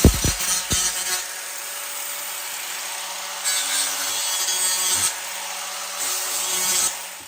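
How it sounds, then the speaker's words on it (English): An angle grinder with a grinding wheel smooths jagged cut edges on a homemade farm windmill fan. Several harsh, close grinding passes are separated by short pauses, with a brief clatter of handling at the start. "I'm going to take the grinder and the grinding wheel, and I'm just going to go down these edges"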